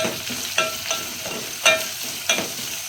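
Onions stir-fried in a pan toward golden for a vegetable biryani, a steady sizzle broken by a few sharp scraping strokes of the spoon, close and moderately loud with no talk.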